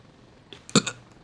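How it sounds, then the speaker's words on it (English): A short, low burp in the Thunder Helix helicopter game, a single brief eruption over faint background noise. "Little burp there."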